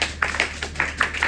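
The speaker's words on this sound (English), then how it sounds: "Real claps." Students in a math classroom clap together in a quick, even rhythm, about six sharp claps close by and moderately quiet.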